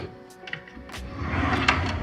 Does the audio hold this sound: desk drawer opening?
yes